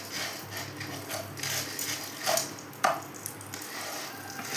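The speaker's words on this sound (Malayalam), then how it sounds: "ചവ്വരി നെയ്യും കൂടി ഇട്ടിട്ട് ഒരു ബ്രൗൺ നിറം വരുന്നത് വരെ ഇളക്കണം." Sago is stirred in ghee in a pan until it browns, with a low sizzle under repeated scraping strokes and a couple of sharper spoon knocks against the metal.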